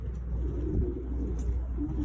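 A young pigeon hen coos softly in a loft, low murmuring calls close by over a steady background rumble, with no talk.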